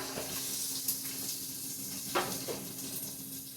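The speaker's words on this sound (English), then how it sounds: "Toss those right in there. You should begin to hear that sizzling." Onions sizzling in a hot Instant Pot, a steady close hiss with a few sharp crackles and pops scattered through it.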